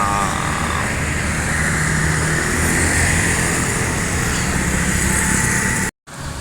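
A second Unsri bus goes by on the road, a continuous loud engine and traffic rumble holding steady throughout before a brief dropout near the end, with no voices.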